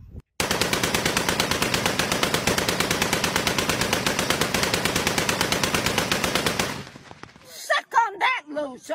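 Long rapid burst of heavy gunfire from a big cannon, loud evenly spaced shots repeating for about six seconds before cutting off, then short bursts of voices.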